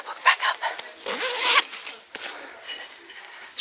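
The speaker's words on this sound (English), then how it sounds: "Zip my pocketbook back up." A few quick zipper pulls on a purse, short rasping zips in bursts, close up, followed by faint rustling.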